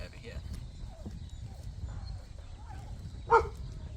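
A single sharp dog bark rings out near the end, preceded by quiet background noise and faint voices.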